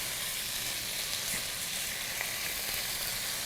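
Chicken strips for fajitas sizzling in a hot pan, a steady bright crackling hiss at close range with no talk.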